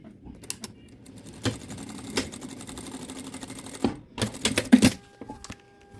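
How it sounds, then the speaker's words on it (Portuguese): A sewing machine stitches across a small fabric hygiene kit bag in short, uneven bursts of rapid clicking, quiet and close, separated by brief pauses. "Vou fechar meu ponto e vou costurar aqui em cima."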